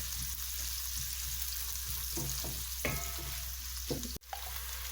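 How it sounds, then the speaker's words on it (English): Onion and half-cut chilies fry in a pan with a steady, close sizzle and occasional soft stirring clatter, with no one speaking. "Fry them a bit until they're a bit soft, until the onion goes soft."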